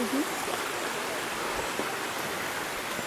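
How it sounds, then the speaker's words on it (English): A year-round creek in Cades Cove flows steadily, a continuous broad rushing wash of water heard close and fairly loud with no talking. "I always wanted to have a house near a creek like this"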